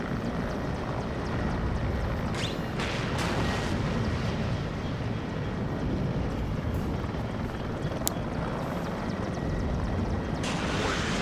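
A command helicopter in the video game WARNO drones steadily as it flies slowly across the front line, its continuous rotor and engine rumble filling the scene with a few faint distant bangs on top.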